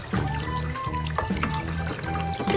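Children play at a Showers Splash Pond water table playset, with water splashing, pouring and trickling steadily throughout, a few sharper splashes standing out against the continuous wet churn.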